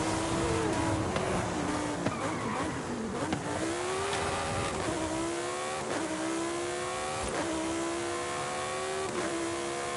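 A Lamborghini in the racing game Forza Horizon 5 revs hard while driving, its engine note climbing and dropping through repeated gear changes, loud and continuous with no talking.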